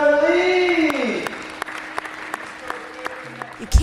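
An audience claps at a Rubik's Cube competition, a sustained patter of many hands that thins out over a few seconds, behind a voice and a falling musical tone at the start.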